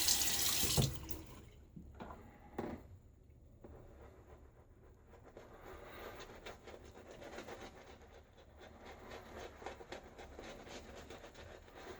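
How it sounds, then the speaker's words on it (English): Water runs from a bathroom sink tap while a man splashes his face during a wet shave, a loud splash at the start followed by a steady, faint stream running alone. "All right, so splash face water."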